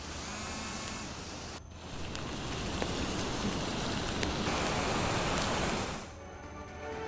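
Heavy, continuous monsoon rain in Chamoli, a dense, loud hiss of downpour that holds steady throughout, briefly dipping then swelling again, with no voices.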